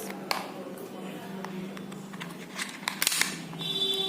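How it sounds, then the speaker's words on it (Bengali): A realistic toy gun fires at a spray bottle target with a sharp, snappy crack among scattered light clicks and a soft background voice. "এবার সেকেন্ড গুলি নেওয়া হলো, দেখা যাক কি হয়।"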